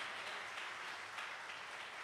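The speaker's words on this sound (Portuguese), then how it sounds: "Vamos aplaudir a Jesus pela vida dele" A church congregation claps together in steady, dense applause that sounds faint and somewhat distant, with no voices standing out above it.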